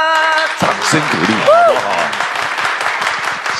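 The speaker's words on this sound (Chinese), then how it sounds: "掌声鼓励。" A studio audience breaks into steady, full applause on a television show right after a sung melody ends, with the clapping holding loud and even throughout and voices faintly mixed in.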